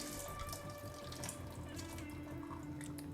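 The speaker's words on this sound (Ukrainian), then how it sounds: "я беру ось таке сіточко і просто її ось так промиваю" Grain rinsed in a mesh sieve under a running kitchen tap gives a steady, close hiss of flowing water with splashing, continuous and fairly faint, with no talk.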